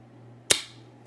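A single sharp crack from an Umarex Single Action Army CO2 airsoft revolver, close and loud with a short fading tail, otherwise quiet.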